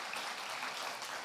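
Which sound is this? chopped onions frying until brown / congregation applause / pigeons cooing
congregation applause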